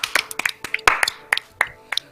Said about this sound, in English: Can we just get a round of applause for Nick?